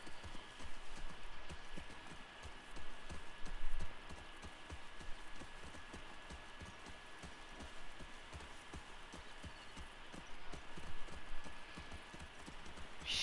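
Horse hooves clip-clop steadily through the whole stretch in The Last of Us Part 2, a continuous rhythmic trot at moderate loudness over a soft rain-like ambient wash, with no talking.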